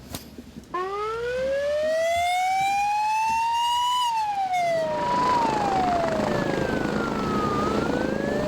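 An ambulance siren wails loudly at an airport emergency drill, rising and falling in long sweeping tones, then shifts to a faster two-tone pattern as it carries on close by.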